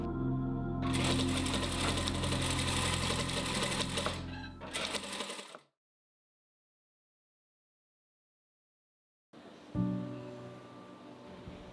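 A sewing machine stitches quilt columns together in a dense, close whirring run that stops abruptly, followed by silence and then softer handling sounds.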